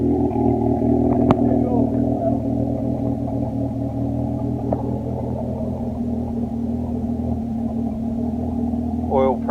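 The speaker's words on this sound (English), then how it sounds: "Would that upset your neighbours if you give it a little rev before you reverse it in?" A road-legal Ford RS Cosworth rally car with a straight-cut gearbox idles and revs, a steady loud engine rumble running throughout with voices talking over it.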